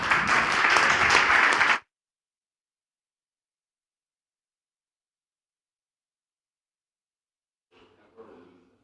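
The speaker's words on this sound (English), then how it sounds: "Who's clapping?" Audience applause at a panel discussion on equity in America, a dense burst of clapping for under two seconds that cuts off abruptly, followed by long silence and a faint murmur near the end.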